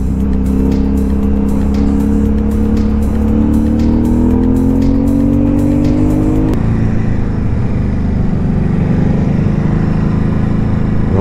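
A red supermotard motorcycle engine drones loudly and steadily while riding through turns at an easy pace, its pitch rising gradually before dropping back as the throttle eases.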